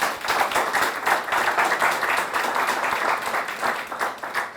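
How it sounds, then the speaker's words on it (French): Loud, sustained applause from a crowd honoring young entrepreneurs in Burkina Faso at a competition event, with dense clapping that pulses in waves without pause for several seconds. "Ils vont s'applaudir très fort pour cela."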